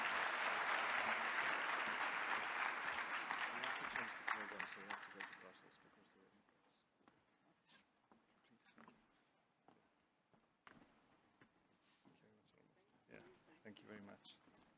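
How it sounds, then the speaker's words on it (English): Loud applause from an audience at a closing ceremony fills the opening seconds, then fades to scattered claps and quiet room noise. "let's give them a round of applause,"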